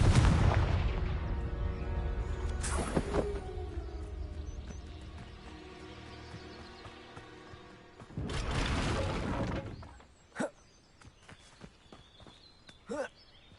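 Spell blasts from Confringo and Descendo in Hogwarts Legacy: two loud bursts with crashing debris a few seconds apart, then sharp thuds and clatter, with a voice calling out between them.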